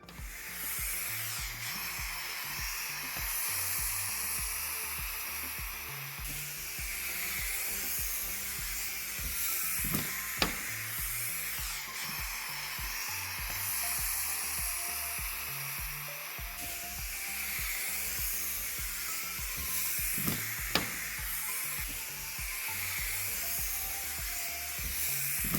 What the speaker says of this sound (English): let's get on to the steam mop and see how that does